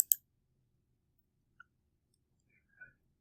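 A computer mouse clicks once, sharp and close in a quiet room, followed by a faint second tick and a soft brief sound later.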